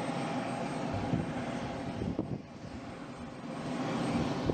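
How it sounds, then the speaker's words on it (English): A Boeing 747 aborts its takeoff on the runway and brakes hard before lifting off, giving a steady, broadband roar of jet engines and rolling wheels that holds at a moderate, distant level throughout. "This is when a pilot slams on the brakes just before the plane becomes airborne."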